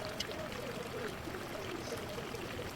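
Water poured steadily over basmati rice in a baking tray for a seafood dish, a continuous soft trickling stream at close range with no talk.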